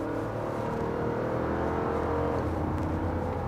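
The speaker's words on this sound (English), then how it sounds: "You hear that V8 working." A Lexus GX460 V8 engine revs hard and steadily, a deep rumbling roar up close that builds and holds throughout.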